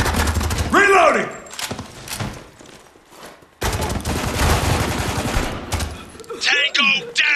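Bursts of machine-gun and rifle fire in Spec Ops The Line, loud and close in clustered volleys with a short lull, while voices shout between the shots.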